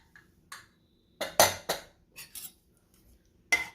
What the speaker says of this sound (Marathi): आता मी झाकण उघडते.